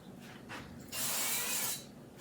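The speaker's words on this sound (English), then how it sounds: "I'm going to get a little bit of avocado spray, and I'm going to spray my Bundt pan here" Avocado oil cooking spray hisses steadily into a Bundt pan for just under a second, a close, bright burst standing out over quiet kitchen background.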